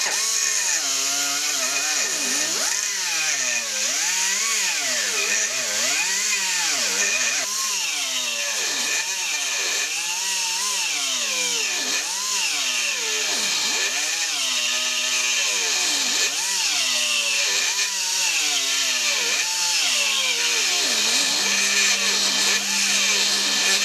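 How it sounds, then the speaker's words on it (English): Small Banggood rotary burrs grinding metal in a workshop, a loud continuous whine that rises and falls in repeated sweeps as the bit bites and eases off, steady throughout with no talking. "those little Banggood rotary burrs we did the review on the other week"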